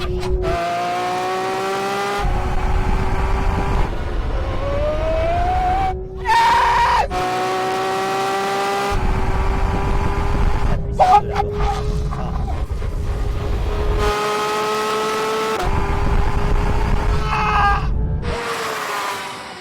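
A Porsche 911 GT3 RS, a Lamborghini V12 and a Tesla drag race, with loud engines revving up through repeated gear changes in long rising pulls, close and dominant throughout with tire squeal.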